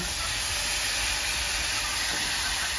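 Potatoes, taro and green banana fry together in a pan of hot oil, giving a loud, steady, unbroken hiss that holds at the same level throughout.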